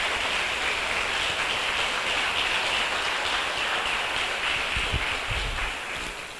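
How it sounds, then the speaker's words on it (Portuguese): A prayer-group congregation claps in sustained, dense applause that stays steady and loud, then begins to thin toward the end. "Aplauda ele então, irmão."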